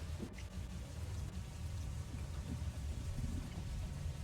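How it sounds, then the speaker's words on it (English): Steady, soft rainfall hissing continuously throughout, a low even wash of noise with a faint rumble underneath and no voices. "I like the sound of the rain."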